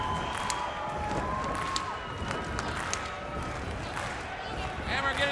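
Crowd at the Super Brawl 2 pro wrestling event cheers and roars steadily as a wrestler rouses them, with a commentator talking over the noise throughout.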